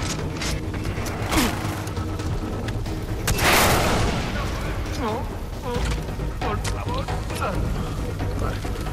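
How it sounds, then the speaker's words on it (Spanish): Rockets fired at the player in Far Cry 3, a heavy boom and crashing explosion amid scattered gunfire and rumbling battle noise, with someone talking over the action. "hay uno lanzándome cohetes"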